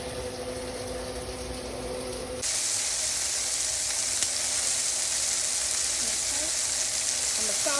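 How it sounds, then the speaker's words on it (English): Bone-in pork chops sauté in a hot pan, a continuous close hiss of sizzling that grows noticeably louder and brighter a couple of seconds in and then holds steady. "gonna saute them up real quick"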